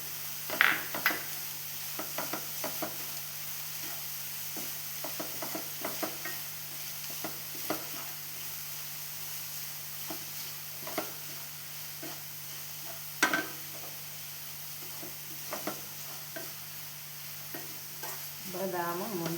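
A spoon stirs a fried mix of almonds, grapes, grated coconut and jaggery in a pan, giving soft scrapes and occasional sharper clinks over a low, steady background hum for a long stretch.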